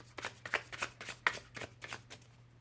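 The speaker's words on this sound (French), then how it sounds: "Alors je vais retirer d'autres cartes." Playing cards are shuffled and drawn by hand, a series of soft, close riffling and snapping bursts at an uneven rhythm over a low steady hum.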